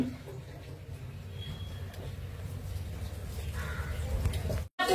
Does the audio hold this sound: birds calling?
yes